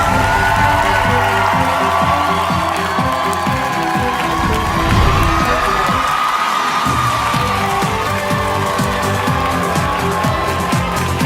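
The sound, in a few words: village crowd cheering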